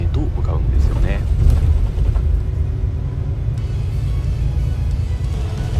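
A Nihon Chuo Bus highway coach cruises on the Joshin-etsu Expressway, filling the cabin with a steady low road rumble and engine hum, while a voice talks over the constant drone.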